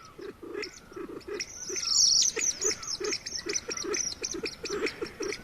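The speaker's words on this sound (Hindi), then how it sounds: "जंगली मुर्गा है इसके अंदर" Repeated low clucking calls of a junglefowl among busy chirping birds outdoors, a steady rhythm of short notes at moderate distance.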